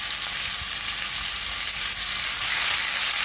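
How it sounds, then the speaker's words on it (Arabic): Beef fillet strips sear in a very hot pan, giving a loud, steady, dense sizzle that carries through the whole stretch with no talking. "الطاسه بتاعتنا خلاص سخنت كويس جدا. هنزل عليها بعرق الفليتو"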